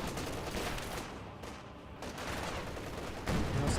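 MG34 machine gun fire in Company of Heroes 2, a steady rattle of automatic shots heard at a distance amid battlefield noise, moderately quiet and continuous with a brief lull midway.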